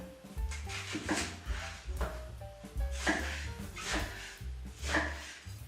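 Knife chopping onion into rough pieces on a board for a sauerkraut filling, a run of close, fairly sharp knocks every half second or so, some louder, with faint clatter between.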